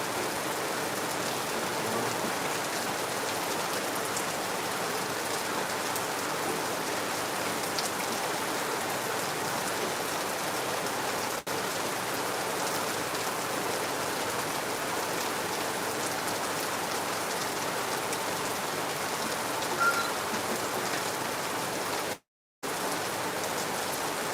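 Heavy rain falls without letup over Lagos, an even, loud wash of drops drumming on surfaces, broken only by a brief dropout near the end.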